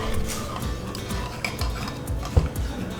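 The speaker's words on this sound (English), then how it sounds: "just keep stirring" A spoon stirs a melting mixture for Portuguese sweet bread in a pot, giving soft scraping and occasional clinks against the metal, with one sharper knock near the end and a faint sizzle below.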